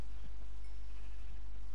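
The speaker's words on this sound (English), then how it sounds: "There is a cow up there." A cow in the Minecraft video game gives a short, low moo, heard alone over a steady low hum.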